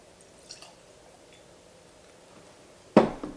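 Bourbon poured into a glass, a short splashing pour arriving near the end after a mostly quiet stretch with a couple of faint earlier clinks.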